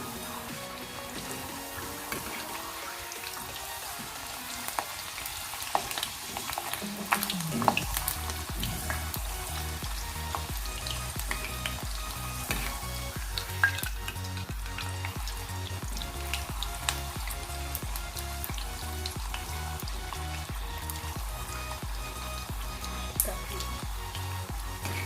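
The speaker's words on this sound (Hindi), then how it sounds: "अब इन पूड़ियों को हम इसमें डालेंगे। और धीमी आंच में तलते हैं।" Puris deep-frying in hot oil over a low flame, a steady broadband sizzle that thickens after a few seconds as the dough goes in, with faint bubbling throughout and no talk.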